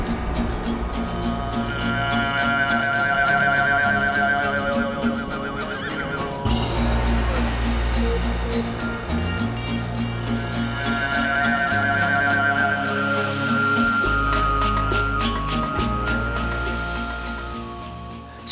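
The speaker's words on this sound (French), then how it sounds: "un bruit de galop." Horses galloping across the open Mongolian steppe, with loud whinnying and neighing over a steady rumble of hooves, sustained throughout under a dense, tonal backdrop.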